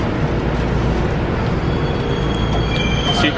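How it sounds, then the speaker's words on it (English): A Japanese train runs on its rails in Yokohama, giving a loud, steady rolling roar with high squealing tones from the wheels near the end. No one speaks. "So this is a Japanese train with some like super nice lighting"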